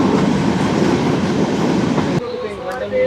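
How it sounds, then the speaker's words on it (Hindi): A passenger train pulls slowly out of Detha railway station in Sindh, wheels clattering steadily over the rails in a loud, close rumble that drops away near the end. "ट्रेन हमारी डेथा रेलवे स्टेशन से स्लो स्लो निकल रही है"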